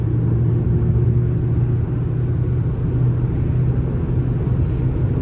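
A 2016 Audi A6 quattro with a 2.0 diesel engine and semi-automatic gearbox pulling hard at full throttle, heard from inside as a loud, continuous low engine drone and road rumble that holds steady with no voices.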